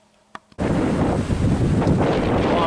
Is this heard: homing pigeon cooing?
no